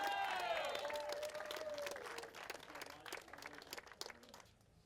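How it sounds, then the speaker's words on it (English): Crowd applause at a speedway junior sedan title presentation, a steady burst of clapping that fades over a few seconds, heard at moderate distance with a voice briefly over it. "Let's have a big round of applause for Aidan Rigby."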